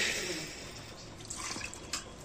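A little water is poured into a pressure cooker holding spiced vegetables, a brief, quiet splashing trickle with no one talking.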